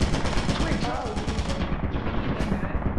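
Rapid automatic turret fire in Lethal Company, a dense continuous burst of shots with no pause, loud and close, under speech.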